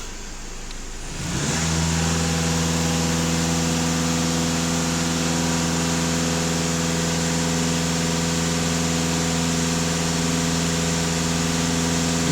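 Volkswagen Passat B8 engine held at raised revs after a quick rise from idle, a steady close hum with no talk.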